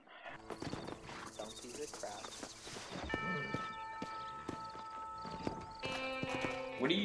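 Horse hooves clip-clop in the Red Dead Redemption video game, a run of crisp hoofbeats with a whinny and ringing musical tones partway through.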